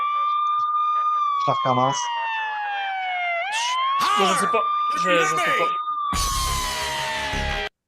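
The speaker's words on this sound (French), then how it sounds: "C'est juste une sirène tout le long" Police-style siren wailing continuously through a played wrestling entrance theme song, steady rising and falling tones with bursts of music, while people talk over it in French.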